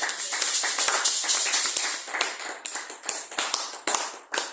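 A church congregation claps in praise, a dense burst of close, loud applause that thins out into scattered, irregular claps, with no voices clearly heard.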